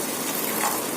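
A little water splashes into a hot pan of cooking long beans, hissing and sizzling in a dense, continuous rush that fills the whole moment.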